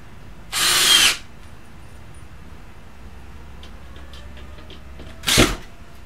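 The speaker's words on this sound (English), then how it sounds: "now we just finish putting in the screws" A power drill driving screws into sheetrock on a ceiling, two short whirring bursts separated by a quiet pause, close and loud.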